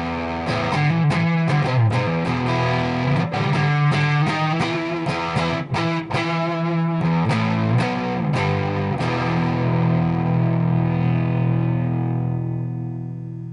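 Electric guitar played through a TC Electronic MojoMojo Overdrive pedal set to its second voice mode with reduced bass, giving loud, continuous distorted chords and riffs that ring out and fade at the end.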